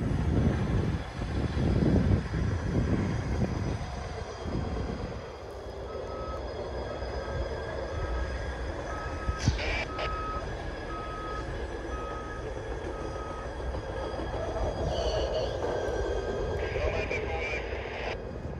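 A CN hi-rail truck runs along railway tracks at Dorval near Montreal under a steady engine and rolling rumble, with a repeated backup beep and faint wheel squeal. Voices talk in the background.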